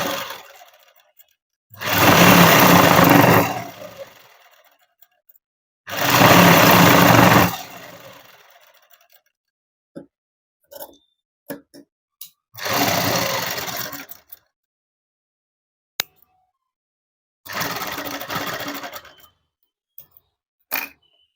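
Sewing machine stitching cut fabric with a silk-joined sleeve, heard as four loud, steady runs of a few seconds each, separated by pauses with small clicks and taps as the cloth is repositioned.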